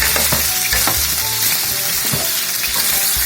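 Pork for entomatado fries loudly in a pan with seasoning juice, a dense, close sizzle overlaid with a few stirring scrapes, steady throughout.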